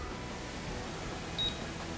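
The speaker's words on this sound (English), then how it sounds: "Each time it beeps, it's done its measuring." A paint thickness gauge gives a single short electronic beep near the end over a steady low background hum, measuring a 1987 Ford Mustang GT.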